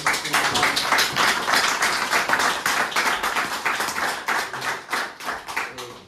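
A small audience claps together after a talk at Löwit's mill, a steady, close burst of applause lasting several seconds that thins out toward the end.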